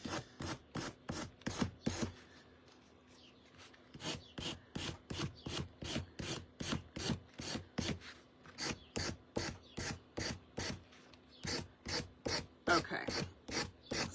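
Hand sanding of small wooden shelf sitter pieces, a brisk run of rhythmic rasping strokes, close and steady, with a brief pause and a single spoken word.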